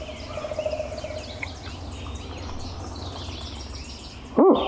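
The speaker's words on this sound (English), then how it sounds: "That bird's gobbling." Wild turkey gobbling in woodland during a hunt, a rapid rattling call heard faintly at a distance amid outdoor ambience, with a sharp nearby sound at the end.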